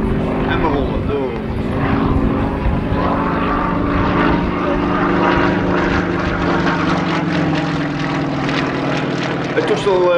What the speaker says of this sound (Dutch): Het toestel heeft een enorme propeller, vandaar het aparte geluid.